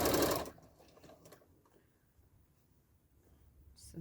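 A sewing machine free-motion quilting a fabric block gives a short, loud, rapid whirring burst at the start, then falls quiet before faintly starting up again at the end.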